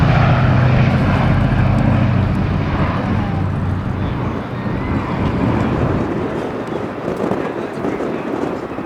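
Piston engines of the B-17G Flying Fortress Sally B at Duxford drone steadily and loudly throughout, a broad continuous roar with wind buffeting, easing slightly toward the end.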